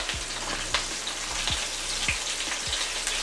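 Pieces of floured chicken fry in a pan of hot oil, a dense steady sizzle with crackles and pops throughout, close and loud with no talking.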